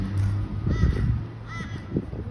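Crows caw outdoors under a wide sky, giving a couple of loud, harsh calls close by over steady background noise.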